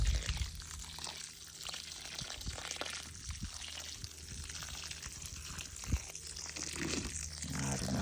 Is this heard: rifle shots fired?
no